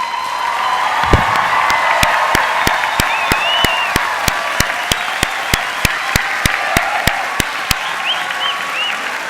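An audience applauds the 2019 graduates at the American University of Paris commencement ceremony, sustained crowd clapping with light cheering, cut through by a sharp, evenly spaced rhythmic clicking that repeats about three times a second.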